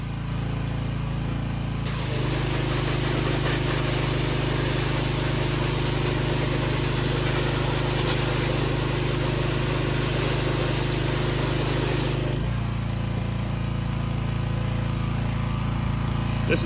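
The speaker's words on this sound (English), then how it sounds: "So we'll get this old power washer started up and we'll wash off a few birds." An old gas-powered pressure washer engine runs steadily and loud at close range, with a stronger, harsher middle stretch as the throttle picks up before it settles back to a lower drone.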